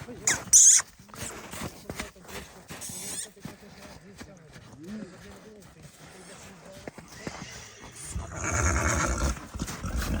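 Horses at a sale yard, a mare and her foal, give short neighs amid scattered clip-clops and handling noise while people talk nearby, with a louder rustling burst near the end.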